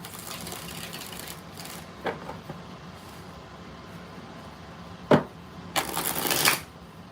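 Tarot cards shuffled by hand in a few separate bursts, a sharp riffle near the middle and a longer fluttering riffle toward the end, close up over a quiet room.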